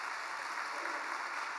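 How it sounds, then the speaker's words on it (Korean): Steady, dense clapping from a church congregation after a confirmation, sustained at an even level throughout with no voices over it. "큰 박수 보내주십시오."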